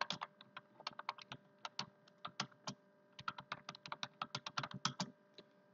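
Rapid, uneven computer keyboard typing in bursts of crisp key clicks, close and fairly quiet, with no talking.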